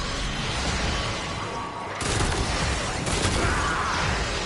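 Rifle fire in the Warframe video game, dense crackling bursts and impacts running steadily throughout, with a sharp onset partway through and a loud, busy, continuous texture.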